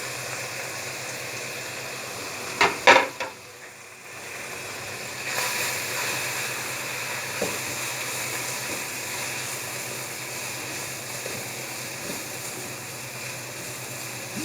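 Chicken sizzles in a pan with spices for a stuffed bhindi dish: a steady, moderately loud frying hiss runs throughout, broken early by a couple of sharp clatters and a brief dip.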